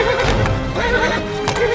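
A horse whinnies loudly and close, a shrill wavering neigh that rises and falls across the moment, with faint hoof movement underneath.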